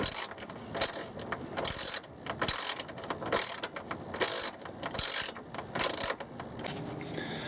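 Ratchet tightening the battery hold-down bolts on a 2003 Chevrolet Silverado, close and loud: bursts of rapid clicking in repeated strokes with brief pauses between them, no talking.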